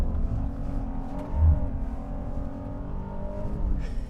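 A 2021 Honda Ridgeline Sport HPD pickup drives on dry dirt with all-wheel drive cutting power, its engine a steady low drone with a brief surge partway through, loud and close with no talking.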